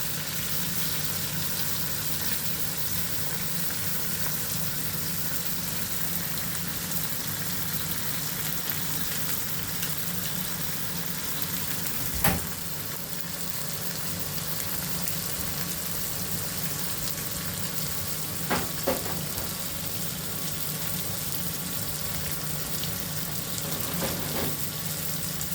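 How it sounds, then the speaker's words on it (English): Onion sizzles steadily in a frying pan, a continuous close hiss that holds throughout, with occasional sharp clicks and scrapes from utensils. "Now I fry this onion"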